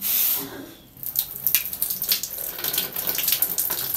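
Water gushes from the tap of a newly installed 25-litre electric geyser. A brief pause is followed by a steady, close splashing flow.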